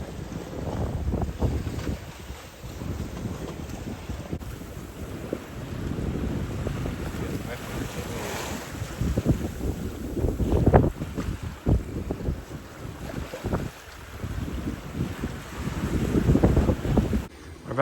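Sailboat under jib on passage to Malta, with steady wind buffeting the microphone, water rushing and sloshing along the hull, and irregular gusty bursts, no voices.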